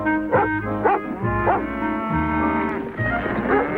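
A working herd dog named Boomerang barks repeatedly while rounding up stock on a farm, loud and close, with harmonic yips and whimpering tones over low rumbling background noise.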